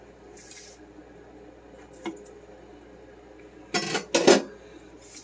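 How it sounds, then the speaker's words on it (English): Excess blackberry pie crust dough being trimmed away: a few soft scrapes, then two louder, close, crunchy cutting bursts near the end, with no talk. "I'm actually going to go ahead and cut some of this excess off."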